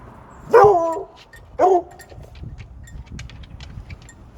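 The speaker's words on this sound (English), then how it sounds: "The dog. Anytime a buzzard flies over, he has a fit" A dog barks at a buzzard flying overhead, two loud separate barks close by followed by quieter background noise.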